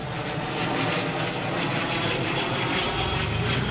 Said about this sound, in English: See, oh, there's the airplane.